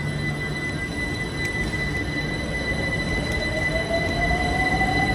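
An express train heads toward the City of London, with a steady rolling rumble, rail noise and a rising wheel squeal or whine near the end, heard continuously with no talk.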